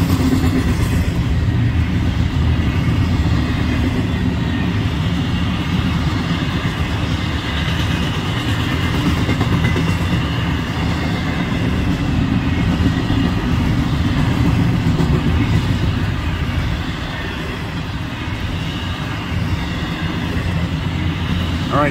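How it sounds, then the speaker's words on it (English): A long Florida East Coast Railway freight train rolls by in the evening, a loud, unbroken rumble of railcars and clattering wheels that continues steadily for over twenty seconds. "Pretty long train today."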